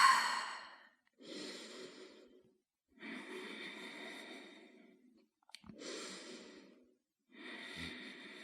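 Slow, deep breathing during a yoga flow, with five long breaths separated by short pauses, close and soft, with no speech.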